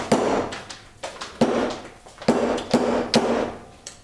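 A hammer taps repeatedly in a pottery studio, giving about a dozen sharp, close strikes in an uneven rhythm, each with a short ringing decay.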